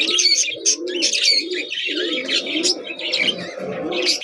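A pair of pet birds, a JP hen and a Rambo-mutation cock, coo continuously up close, with low rolling coos mixed with bright chirps and tweets and no talking.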